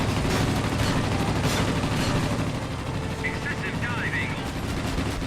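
Spitfire Mk I machine guns rattle in a World of Warplanes dogfight, a dense continuous roar of rapid fire over droning engine noise, loud and sustained throughout.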